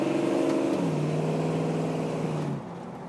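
A classic Ford Bronco engine revs and drops pitch on a downshift, a loud, close, steady mechanical drone that winds down and then settles lower near the end.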